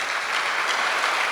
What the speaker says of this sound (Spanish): ¿Cuántos damos aplausos al Señor?